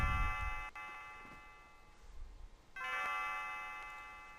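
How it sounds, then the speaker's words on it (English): A bell in the Chrono Trigger video game rings with two bright chime strikes a couple of seconds apart. Each strike leaves a long, ringing tone that decays slowly over faint background hum. "Bell rings."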